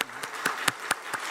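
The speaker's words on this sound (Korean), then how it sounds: "이 아이들에게 한번 우리가 박수로 좀 격려해 주는 시간을 좀 가졌으면 좋겠습니다" Six evenly spaced, fairly quiet claps at a quick beat during a Sunday church service, with a brief voice at the start and a faint tonal hum underneath.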